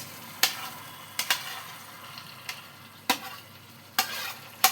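Boiled taro stolons stirred into a pan of Bombay duck fish masala: sharp spatula scrapes and clacks against the pan at irregular intervals, about six strokes, over a soft steady frying hiss, close and fairly clear.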